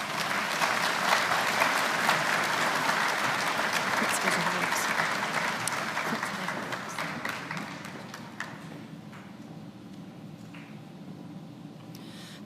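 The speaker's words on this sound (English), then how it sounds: "Let's give these students a round of applause." An audience claps for students at a high school graduation ceremony, loud sustained applause that gradually thins and fades toward the end.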